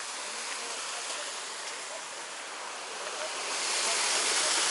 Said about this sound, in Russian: Ну-ка, давайте подойдем к этому водопадику.